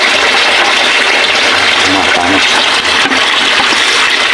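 Water runs loudly and steadily from a tap while boiled rabbit meat is rinsed, a close, continuous gushing splash with faint handling sounds underneath.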